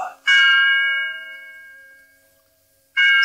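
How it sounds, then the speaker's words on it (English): A single chime from a new bell tower clock striking three: a clear, ringing metallic strike that decays slowly over about two seconds, followed by the start of a second stroke. "it struck 3 o'clock on the new bell tower"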